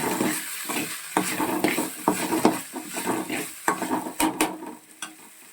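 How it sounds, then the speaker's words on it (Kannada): Spatula scraping and stirring tomato ketchup through Schezwan fried rice in a pan: steady clattering scrapes of metal on the pan, with faint sizzling beneath and no voices. "ಸೊ ಅದನ್ನು ಕೂಡ ಆ್ಯಡ್ ಮಾಡಿ ನೀಟಾಗಿ ಮಿಕ್ಸ್ ಮಾಡ್ಕೊಳ್ಳೋಣ."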